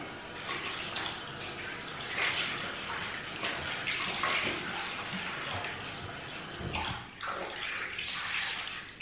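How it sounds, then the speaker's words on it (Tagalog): Water is tipped out and splashed as a container is rinsed at a sink, a steady close rush of pouring and running water with brief surges and dips, no talking. "Itapon natin ang tubig. Hugasan lang natin."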